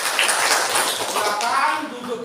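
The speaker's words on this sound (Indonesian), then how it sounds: "tepuk tangan untuk Repa dulu" High school classroom applause, a busy patter of many hands clapping together with students' voices chattering over it.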